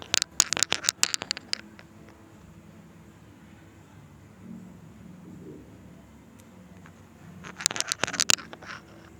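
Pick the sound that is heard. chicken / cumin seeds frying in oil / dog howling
cumin seeds frying in oil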